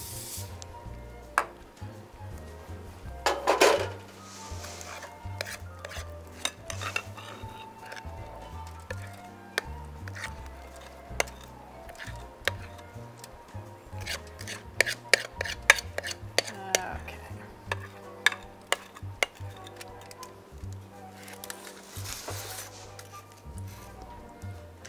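Mocha pudding cake batter being scraped and spread into a baking pan, with repeated clicks and knocks of utensil on pan and bowl, close up amid low background hum.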